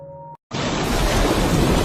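Heavy torrential rain pours down in a loud, dense, continuous wash after a brief tone and a moment of silence, with a deep low rumble of thunder beneath it.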